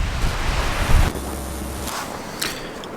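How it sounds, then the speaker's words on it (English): Strong gusts of high wind roar across a campsite by a tent, a loud broadband rush that buffets the microphone and then eases to a steadier blow. "We're gonna give it a second so you guys can hear how windy this is right now."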